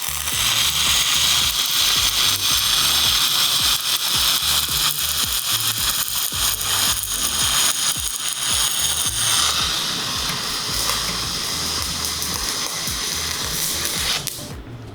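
MIG welding in spray transfer with metal core wire on a Miller Multimatic 255, using a push technique; a loud, steady crackling hiss runs continuously before cutting off near the end.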